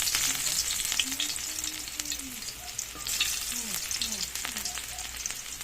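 Garlic sizzling and frying in a hot pan as the first step of pork adobo, a steady crackling hiss with occasional stirring, close and continuous.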